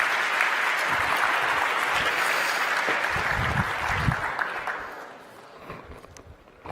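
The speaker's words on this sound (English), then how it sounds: "give a round of applause for" A conference audience applauds a speaker, dense sustained clapping that fills the room and then thins out and fades over the last couple of seconds, with some low thumps beneath.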